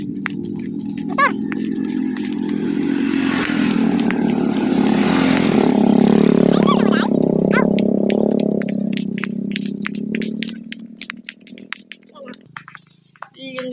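A motorcycle rides through farmland among sugarcane fields in the Philippines, its engine droning steadily and loud throughout, easing off near the end while a person talks over it.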